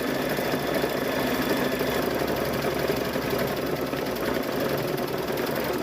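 Sewing machine stitching a quilted fall table runner right to its edge, a steady close mechanical whir with rapid needle chatter running unbroken throughout.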